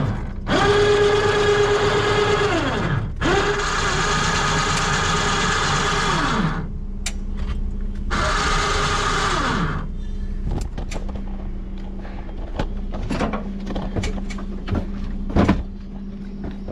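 A pickup truck's powered platform and tailgate lower with a loaded vehicle's back wheels on it, producing sustained motor whines that start and stop in several separate runs, followed by quieter clicks and knocks nearby.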